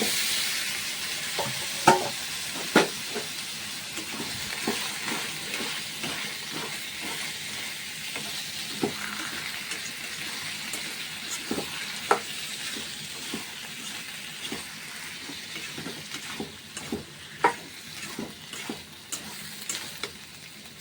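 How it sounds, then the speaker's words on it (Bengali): Chickpeas and potatoes fry in a pan with a continuous hissing sizzle, punctuated by frequent scraping clicks of stirring, steady and close for the whole stretch, with no voices. "এখন চানা আলু ফ্রাই করে নিচ্ছি"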